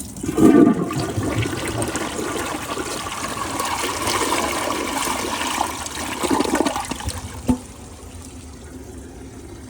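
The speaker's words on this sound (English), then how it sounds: "I do not like that flush." A Glacier Bay high-efficiency toilet flushes with its tank overfilled and leaking, giving a loud rushing whoosh that gurgles and drains over several seconds, then tapers off into a quieter trickle of refilling water close by.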